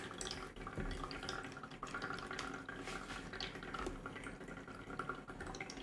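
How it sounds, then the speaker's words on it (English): Water trickles and drips steadily from a jug indoors, a faint, continuous splashing that runs without a break. "You can hear my jug peeing. Listen to it peeing."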